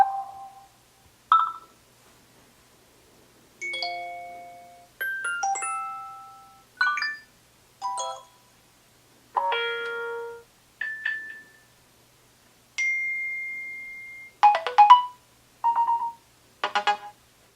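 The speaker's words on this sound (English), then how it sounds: "So here are the alert tones from iOS 7." Sequence of short, distinct iOS 7 phone alert tones played one after another with brief silences between them: chimes, beeps and melodic blips, each clear and close, with no talking.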